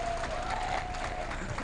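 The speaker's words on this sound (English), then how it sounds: "please give a round of applause" Audience at a women's leadership forum event in Johannesburg applauding, a dense, even burst of clapping filling the room, with a faint sustained tone running through it.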